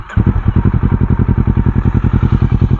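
A Kawasaki Versys 650 motorcycle with an aftermarket exhaust runs close and loud, its engine note pulsing in a steady rapid throb after a brief rise at the start, with no talking.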